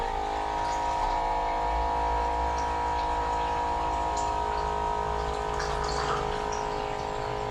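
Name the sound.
water dispenser machine filling water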